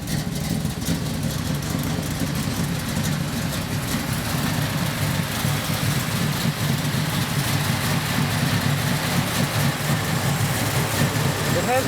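A 1982 Chevy Silverado with a 510 cam runs steadily at idle, a loud, continuous engine rumble with an even lopey throb that holds close and unchanging for the whole stretch.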